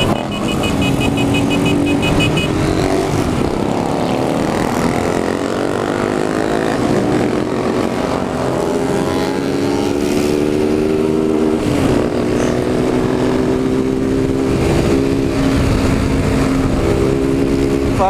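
Many motorcycles ride together through a favela, a loud, dense wash of engine noise with revs climbing and dropping, close and steady, with occasional talk underneath.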